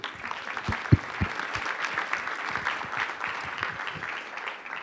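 Sustained clapping from a tech summit audience, with a few louder individual claps standing out near the start of the continuous wash of applause.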